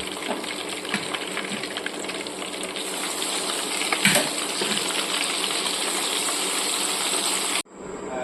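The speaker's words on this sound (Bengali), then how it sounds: "এভাবে সব মাছগুলোকে আমি ভেজে নেব" Pieces of fish frying in hot oil in a pan, a steady close sizzle and crackle that runs evenly for several seconds and then cuts off abruptly near the end.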